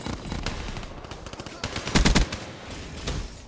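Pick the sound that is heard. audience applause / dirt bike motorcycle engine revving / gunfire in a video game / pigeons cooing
gunfire in a video game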